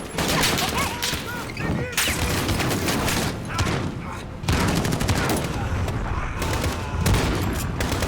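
Sustained automatic gunfire and scattered booms in the 2019 Call of Duty: Modern Warfare, loud and dense, coming in long overlapping bursts with brief lulls, battlefield chaos throughout.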